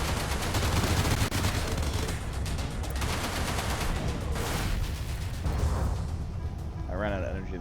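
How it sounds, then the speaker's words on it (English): Rapid turret gunfire from a gunship in the space-combat game Everspace rattles continuously and loudly throughout, a dense barrage of shots with someone talking over it. "Shoot him, turret, shoot him."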